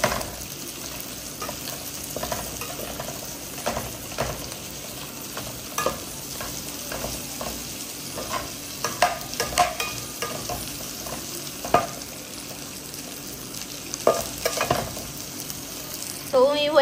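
Chopped onion sizzles steadily in a hot pan for butter chicken, with a spoon stirring and scraping in repeated bursts over a continuous frying hiss, close and moderately loud, no talking.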